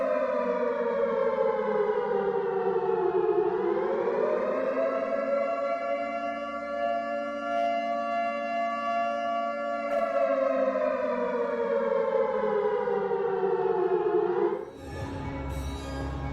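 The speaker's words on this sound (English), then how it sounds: "A civil defense siren is a siren used to provide an emergency population warning to the general" A civil defense siren sounds a nuclear attack warning: one long, loud, sustained wail that dips and rises slowly in pitch, then cuts off near the end into a burst of noise.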